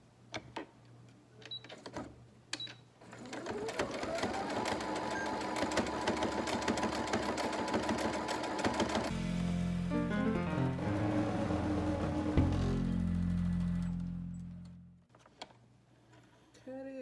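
A sewing machine stitches a beginner's fabric face mask, its motor running in a steady, close mechanical whir for about ten seconds, then shifting to a lower, heavier rattle before stopping, with a few light clicks at either end.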